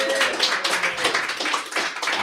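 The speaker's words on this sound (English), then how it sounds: "Give Renata a round of applause." A guest named Renata receives a round of applause at a talk on blockchain, crypto and innovation: dense, steady clapping at moderate loudness for about two seconds, with no voices.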